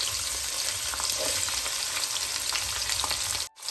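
Onions fry in a pan for chicken curry, a dense, steady sizzle with stirring scrapes that runs nearly unbroken and drops away briefly near the end, with no voices.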